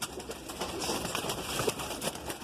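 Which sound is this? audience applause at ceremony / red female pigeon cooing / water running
red female pigeon cooing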